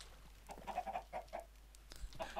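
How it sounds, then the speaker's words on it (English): Video game chickens on a small farm built in the air cluck in short bursts, several quick clucks close together, quiet against a low background hum. "It's a small chicken farm in the air."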